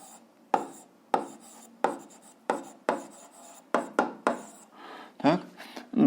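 Algebra is written out by hand on a board or paper, with sharp stroke sounds repeating roughly every half second and a few quicker strokes near the end.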